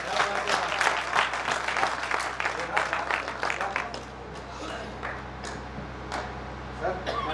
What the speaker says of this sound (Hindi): मैं आज चाहूंगा कि यहाँ की जनता के लिए ये सभी कवि ताली बजाएं।